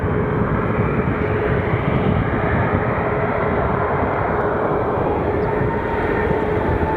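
A United airliner bound for Chicago departs Phoenix Sky Harbor Airport, a steady, loud, broad jet roar that holds evenly for several seconds with no voices.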